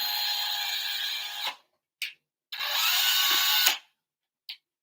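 Power drill boring a pilot hole into a 3D-printed part for an FPV long-range RC aircraft: two sustained, close whining bursts of about a second and a half each, separated by brief blips of the motor.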